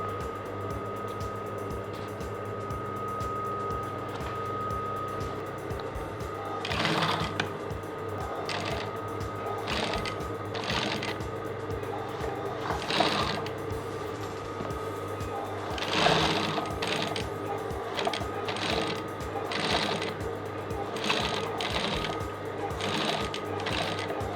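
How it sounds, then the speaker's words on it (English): A sewing machine stitches the crotch seam of a pair of women's trousers, running as a steady close whir with louder bursts of stitching and a few handling clanks over the stretch. "so I'm going to stitch on that 1 inch downward"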